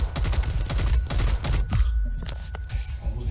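Rapid bursts of KSP 45 submachine gun fire in Black Ops Cold War, several dense volleys through the first half, then scattered shots and game effects, loud and close.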